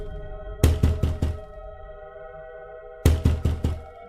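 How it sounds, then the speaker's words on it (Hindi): Knocking on a house door at night in a horror story, two bursts of four sharp, evenly spaced knocks separated by a pause, loud and close over a quiet background hum. "फिर वह उस घर का दरवाजा खटखटाती है।"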